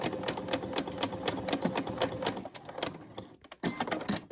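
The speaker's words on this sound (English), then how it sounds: "I'm going to sew across." A Brother SE600 sewing machine stitches across a small fabric key fob padded with foam, giving a steady rapid needle chatter close by that pauses briefly and then resumes.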